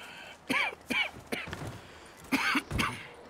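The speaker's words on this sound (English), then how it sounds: "Alpha, stop coughing." A character in Red Dead Redemption 2 coughing: several short, rough coughs and throat-clearing bursts in uneven succession, close and moderately loud over a quiet background.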